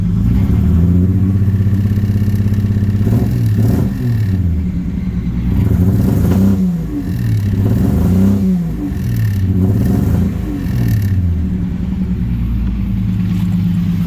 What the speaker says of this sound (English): So we definitely got a misfire